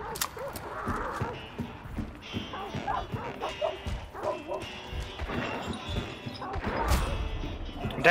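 Dogs barking in the video game Hunt, a few sharp yips and barks scattered among hoofbeat-like thuds and crashes, with a person talking over the game noise.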